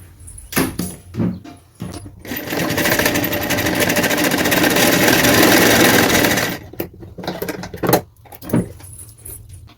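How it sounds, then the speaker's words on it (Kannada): A sewing machine runs in one steady, loud burst of about four seconds while stitching a plain blouse from the inside. Short clicks and handling noises of the fabric and machine come before and after it. "ಆ ನೀರಕ್ಕೆ ಮಾತ್ರ ಸ್ವಲ್ಪ ಒಳಗಡೆಯಿಂದ ಸ್ಟಿಚ್ ಹಾಕೋತಾ ಇದ್ದೀನಿ"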